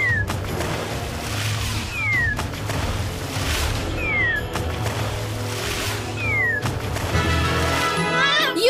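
Meowing from a cartoon cat in the My Little Pony Harmony Quest video game, several short rising cries repeating about every two seconds over busy game music and sound effects.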